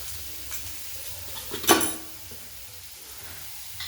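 Onions with a little red chili powder fry in a pan on a lowered gas flame for a home-style moth bean curry, a soft continuous sizzle and hiss with one clattering stir of a utensil midway.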